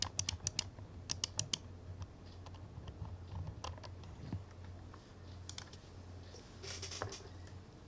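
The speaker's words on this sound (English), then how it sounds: "I'm gonna be showing you guys a typing test so you guys can hear how it sounds when it's connected like this." Keys clatter on a KC84 75% hot-swap mechanical keyboard during a typing test, fairly quiet and close, with quick clustered clicks and pauses over a low steady hum.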